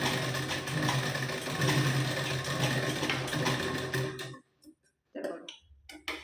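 A sewing machine running steadily while stitching tucks on a blouse, a continuous close mechanical whir that stops abruptly partway through, leaving a few brief faint handling noises.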